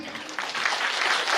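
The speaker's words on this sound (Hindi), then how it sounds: "एक बार जोरदार ताली" An audience at a New Year celebration at a retreat centre breaks into applause, clapping swelling quickly and holding at a steady, moderately loud level.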